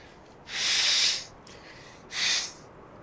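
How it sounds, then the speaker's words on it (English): Someone blows their nose twice up close, a long forceful hissing burst followed by a shorter one, with no talking. "I had to blow my nose."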